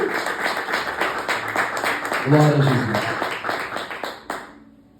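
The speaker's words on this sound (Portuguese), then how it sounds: "Você pode dar um forte aplauso a Jesus aí?" Church congregation clapping and applauding for Jesus, brisk crowd clapping with a voice calling out over it in the middle, then the applause dies away at the end.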